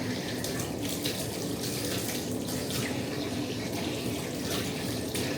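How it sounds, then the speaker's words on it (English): Dishes being washed in a tub with soap and water, a steady close rush of running water splashing continuously without pause. "Wash it out with soap and water. And then wash each dish and put it back in the clean tub."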